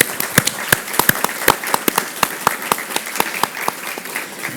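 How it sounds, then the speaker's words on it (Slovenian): Loud applause from a conference audience honoring ministry negotiators and officials, a dense wash of clapping with sharp individual claps standing out, steady for several seconds. "verjamem pa, da si lahko vsi skupaj privoščimo en glasen aplavz tako za Mojco, kot za ministra in ne nazadnje vse pogajalce"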